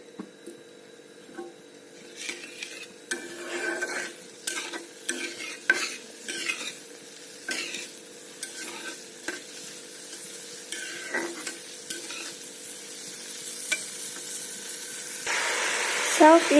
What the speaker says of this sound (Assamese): চাওক, এইখিনি উতলিবলৈ আৰম্ভ কৰিছে।